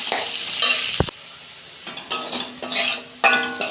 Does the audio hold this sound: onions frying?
yes